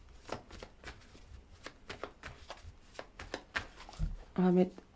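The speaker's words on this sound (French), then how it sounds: "On va mettre d'autres cartes autour" Tarot cards are handled and laid out on a surface, with a series of soft repeated slaps and shuffling flicks, a voice speaking quietly throughout.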